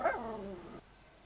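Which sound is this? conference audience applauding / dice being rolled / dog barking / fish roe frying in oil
dog barking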